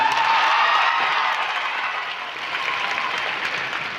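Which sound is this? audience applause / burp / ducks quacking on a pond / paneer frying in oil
audience applause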